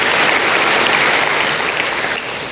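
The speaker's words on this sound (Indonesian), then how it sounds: "Tepuk tangannya yang paling meriah buat Tuhan kita." Church congregation applauding during a sermon, a dense, loud, continuous wash of clapping that holds steady throughout and eases only slightly at the end.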